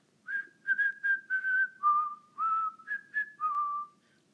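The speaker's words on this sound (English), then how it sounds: "Little dragon, whistle and sing." A person whistles a short tune of about ten clear, melodic notes at a storytime reading, close and alone with no talking, rising and falling in pitch.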